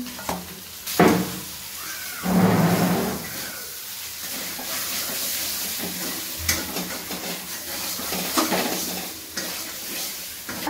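Potatoes frying with masala in a pan, a steady sizzle and hiss broken by louder bursts of stirring and scraping against the pan, close by and with no voices.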